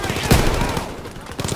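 Machine gun fire in the Call of Duty WWII video game sounds as a short burst of rapid shots with one sharp crack up front, followed by more scattered gunfire under brief background voices.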